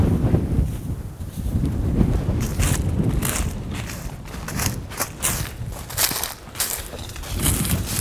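Gusty wind swirls outdoors in the lee of trees, a steady low roar with broadband bursts and rustling, buffeting the microphone, no voices.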